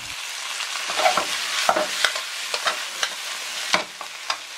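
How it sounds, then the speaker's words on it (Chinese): Duck meat stir-fried with pickled radish, Sichuan peppercorns and rapeseed oil in a wok over medium heat, giving a steady close sizzle broken by sharp scraping clacks of the spatula at irregular intervals. "然后再下入鸭肉一起煸炒一会"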